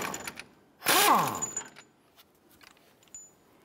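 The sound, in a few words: 1-inch socket ratchet removing a jam nut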